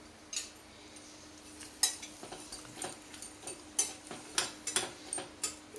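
Onions and green chillies being stirred in a frying pan, a utensil scraping and clinking against the metal in irregular, fairly faint strokes over a soft background hum.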